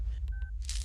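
A single clear telephone keypad tone sounds briefly amid low background hum, followed by a short burst of hiss.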